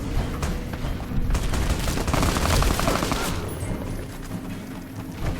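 Sustained gunfire in the Fallout game world, a dense rattling fusillade of shots going off overhead, fairly loud, fading slightly toward the end, with no talk.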